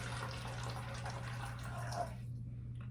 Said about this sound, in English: we're going to start with the styrofoam cup, and we're going to pour out 1 cup of the cold water